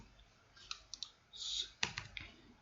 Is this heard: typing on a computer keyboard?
yes